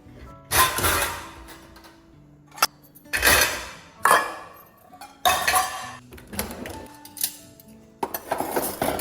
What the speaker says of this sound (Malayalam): നമ്മുടെ കഴുകി വെച്ച പാത്രങ്ങളൊക്കെ അതിൻ്റെ ഓരോ സ്ഥാനത്തേക്ക് എടുത്തു വെക്കുക